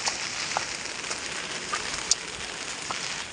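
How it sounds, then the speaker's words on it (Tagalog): Rain falls steadily as a typhoon approaches, a continuous soft hiss of drops on surfaces with a few sharper isolated drips, no voices. "It's raining."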